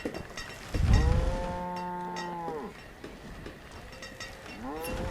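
A game cow from the city-building game Banished lets out two drawn-out moos, the first long and clear, the second shorter near the end, over a soft ambient backdrop with no talking.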